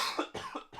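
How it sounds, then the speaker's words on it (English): A few short, raspy coughs in quick succession, fairly close and moderately quiet, with no talking. "pardon me for one moment while I cough."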